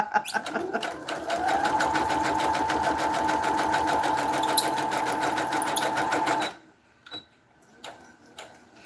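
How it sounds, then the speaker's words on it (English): A sewing machine stitching through paper runs in a steady, fast mechanical rhythm with a high squeak laid over it, then stops abruptly, leaving a few faint clicks and handling noises. "This paper, as I'm going through my sewing machine, it's squeaking like it's a little bird."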